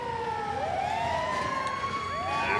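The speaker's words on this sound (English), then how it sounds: "And ambulance is responding code 3." An ambulance siren from the video game GTA 5 wails steadily and loudly, its pitch sweeping up and down continuously with no talk over it.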